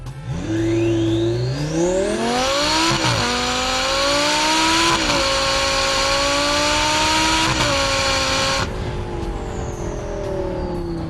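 A Lamborghini in Corsa mode with traction control off, launched flat out in first gear: a loud, close engine roar climbing steadily in pitch for about eight seconds with brief dips at shifts, then dropping away.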